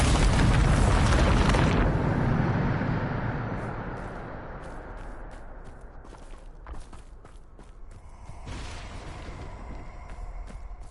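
A loud blast from the Bombarda spell in Hogwarts Legacy opens the scene, a heavy rumbling boom lasting about two seconds, then decaying into a low ambient tail with scattered small clicks and light footsteps.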